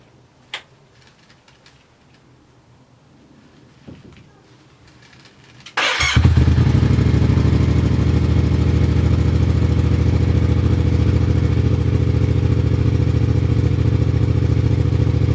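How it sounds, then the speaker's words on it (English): A motorbike engine cranks and fires into life after a few quiet clicks and knocks, then settles into a loud, steady idle up close as it warms its oil. "we're going to need to start the bike up, let that oil warm up and get to a nice temperature"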